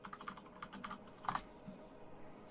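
Password typed on a computer keyboard: a quick run of light, irregular key clicks with one louder cluster of taps near the middle, fairly close and quiet, no voices.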